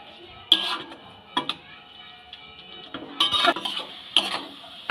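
Gooseberries cooking down with jaggery in a wok for a sugar-free amla chutney are stirred now and then, giving a few scattered scrapes and light clinks of a utensil against the pan at close range.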